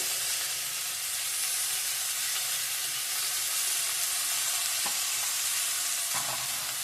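Potato, soybean and pumpkin fry with turmeric in a pan, giving a steady close sizzle throughout, with a couple of faint clinks from stirring near the end.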